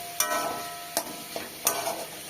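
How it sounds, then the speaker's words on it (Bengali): Chopped tomatoes and green chillies fry in a pan, stirred with a utensil that gives three sharp scraping knocks over a soft, steady sizzle, fairly quiet and close. "কাঁচা লঙ্কা টমেটো কুচি আছে কাটা একসাথে দিয়ে দেবো দিয়ে সবগুলোকে সুন্দর করে ভাজবো"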